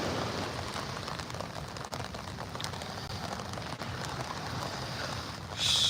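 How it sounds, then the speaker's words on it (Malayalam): Rain pouring down on an empty Siloso Beach in Singapore, a steady hiss of drops close by with gusts of wind, loud and unbroken throughout. "ഒറ്റയ്ക്കൊരു ബീച്ചിൽ മഴയത്ത്"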